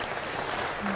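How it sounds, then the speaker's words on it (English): An audience at the Nairobi Innovation Week 2022 event applauds in a brief, continuous wash of clapping, dense and moderately loud from start to end. "Maybe give her a clap for that."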